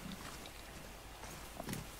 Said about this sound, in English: Yeah, it sounds like a pig.